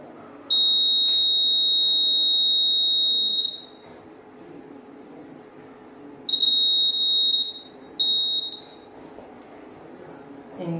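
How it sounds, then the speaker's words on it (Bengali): A homemade fire detector alarm triggered by an IR sensor gives off a loud, piercing electronic tone in a long sustained burst, then two shorter bursts after a pause, over a low background hum. "আইআর সেন্সর দ্বারা আমরা যে তৈরি করেছি সেখান থেকে একটি অ্যালার্ম"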